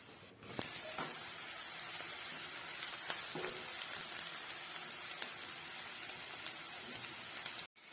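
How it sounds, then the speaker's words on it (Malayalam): Onions with a little sugar sauté in coconut oil for egg rice, giving a soft, steady sizzle with faint crackles and a few spatula clicks, quiet and close, no voices. "ഇനി ഇത് ബ്രൗൺ നിറമാകുന്ന വരെ ഒന്ന് വഴറ്റി എടുക്കാം"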